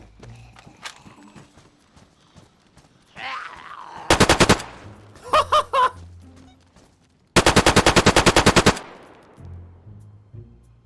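An AUG rifle in DayZ fires two rapid bursts of sharp, loud gunshots a few seconds apart, with softer game sounds and footsteps-like thuds in between.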